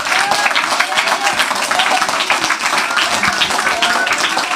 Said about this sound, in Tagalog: Yung ba yung pinakamalakas natin palakpak?